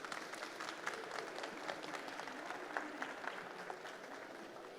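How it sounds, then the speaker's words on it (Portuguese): An audience at a construction engineering conference gives a speaker a sustained round of dense applause. It is faint and distant, a steady patter of many hands with no talking on top. "Recebam com uma grande salva de palmas"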